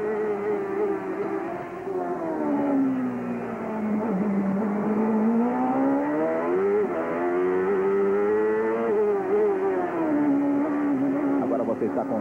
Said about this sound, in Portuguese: Vamos sentir a saúde do motor forte do Bob Rahal.